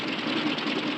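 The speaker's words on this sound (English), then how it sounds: "Engine trouble, sir." An aircraft engine with engine trouble drones in flight, a dense, steady rough roar filling the short clip without pause or talk.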